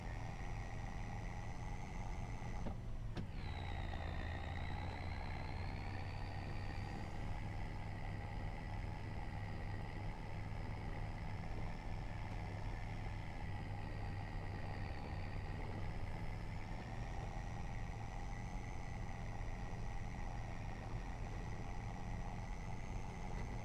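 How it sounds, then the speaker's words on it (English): A steady, low truck engine drone in Farming Simulator 25 hums continuously with a faint rise in pitch partway through, fairly quiet and unchanging, no voices. "This truck does sound good."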